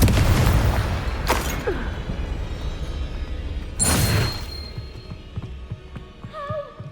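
Confringo spell blasts in Hogwarts Legacy land as several loud, close booming bursts spaced a few seconds apart over a low game rumble, with small chimes near the end.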